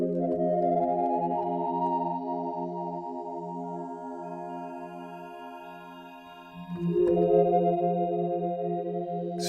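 A Waldorf Microwave synthesizer preset holds a dry sustained chord with bright harmonics, then shifts to a new chord partway through, steady and alone without any voices.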